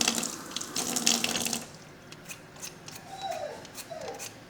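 Water runs from a kitchen tap into a pot, a bright splashing rush for the first second and a half, then quieter trickling with a few gurgles.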